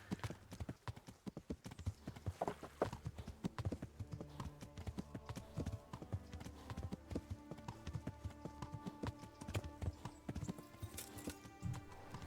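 Horse hooves clip-clop at a steady, quick trot in the video game Kingdom Come: Deliverance. The hoofbeats are loud and close and continue throughout over soft tonal background music.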